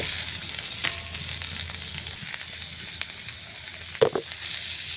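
Garlic frying in hot oil in a pan for a chicken curry, giving a steady close sizzle throughout with a couple of sharp clinks of a utensil near the end.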